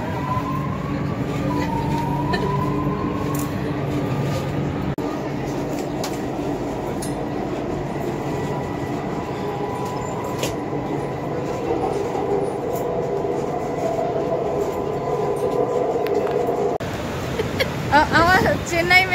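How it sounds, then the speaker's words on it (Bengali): A Chennai Metro train travels between Chennai Central and Vadapalani, heard from inside the car as a steady rolling rumble with soft clicks and hiss. Passengers talk in the background, and the noise rises briefly toward the end. "ট্রেন ছেড়ে দিয়েছে"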